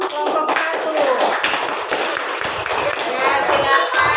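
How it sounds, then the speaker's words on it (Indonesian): Students in a classroom clap for a classmate group, a busy, close patter of hand claps and taps with shuffling and murmuring voices mixed in. "Tepuk tangan buat teman kelompok 1."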